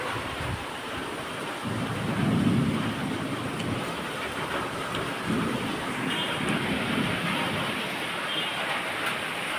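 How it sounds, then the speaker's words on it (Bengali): Rain pours down outside a home in a dense, steady hiss throughout, with a few low rumbling swells of thunder in the background and no voices. "শুরু হয়ে গেছে বৃষ্টি।"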